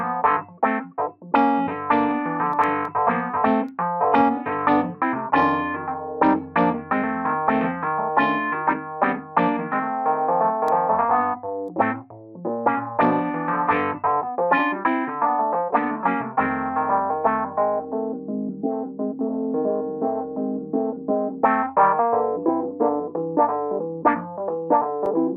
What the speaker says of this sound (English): it just makes it sound like that real nasally type of sound coming out of a little radio speaker